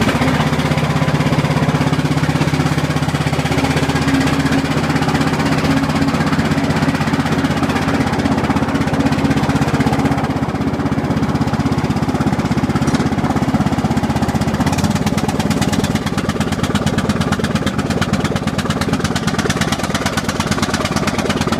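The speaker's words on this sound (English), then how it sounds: "I usually let that run on a choke for about 10, 10 or 15 minutes." A small engine, cold-started and running on choke, idles loudly and continuously close by with a steady rough chugging rumble throughout, no voices.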